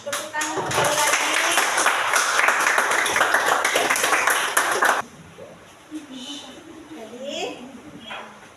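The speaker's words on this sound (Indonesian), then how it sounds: "Kemudian kita tepuk tangan sekali lagi." Classroom group of students clapping hands together in a dense, lively burst for about five seconds, then stopping abruptly, followed by quieter room sounds and voices.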